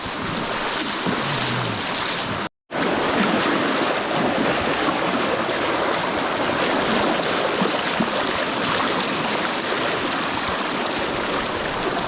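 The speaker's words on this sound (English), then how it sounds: "I think this is either the last or the second last sketchy river crossing" River water rushing during a sketchy river crossing in New Zealand, a loud, continuous roar of fast-flowing water close to the microphone with wind buffeting, and a brief dropout partway through.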